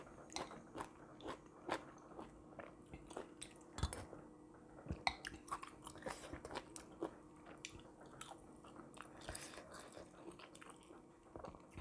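Close, wet chewing and crunchy biting of food during a meal, with steady mastication and sharp bite crunches repeating throughout, no talking.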